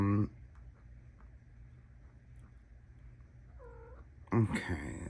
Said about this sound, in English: Oh, did you hear baby cat?